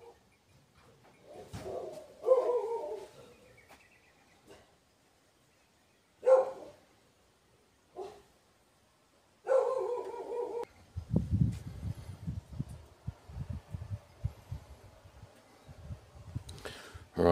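Dogs bark in a few sharp, separate bursts spread through a quiet space, with someone talking in between and rustling, handling noise near the end.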